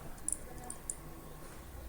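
A computer mouse clicking while working in CATIA sheet-metal software, a few short, light, close clicks over a quiet room hum.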